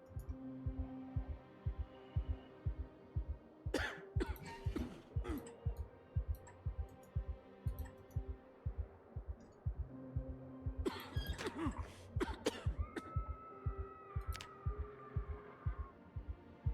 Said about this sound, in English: God, he's really coughing at it, isn't he?